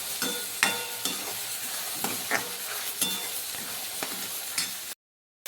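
Chopped onions fry in a pan with a continuous sizzle, and regular scraping stirs sound every half second or so, then there is sudden silence.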